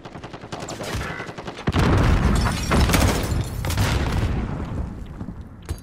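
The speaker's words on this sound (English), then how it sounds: "Ooh, grenade!" Gunfire in Call of Duty Modern Warfare Search and Destroy, a burst of shots followed by a heavy close booming blast that rumbles on for a few seconds, then tails off.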